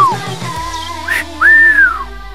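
Short wolf whistles rise and fall in two or three clear melodic phrases, aimed at girls by basketball players, loud and close with no talking over them.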